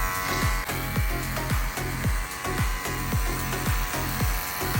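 Electric hair clippers cut hair in a clipper-over-comb pass during a men's fade haircut, a steady close buzz with repeated short strokes and rhythmic pulses, alone without talk.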